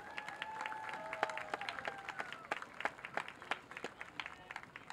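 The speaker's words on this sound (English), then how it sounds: "A loud round of applause for Taylor Skibitsky and Brendan McCarchick." A crowd applauds honored students at a high school football game, with a moderate spread of scattered claps building and continuing at a distance, fairly faint.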